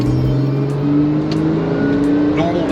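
A Porsche 997.2 Carrera S accelerating in normal mode, its engine a loud, steady drone close by with a slowly rising pitch and no break.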